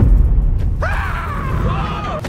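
A man's single long, loud, wavering scream, the recycled effect used for a player eliminated on the glass bridge in Squid Game. A low rumble comes just before it.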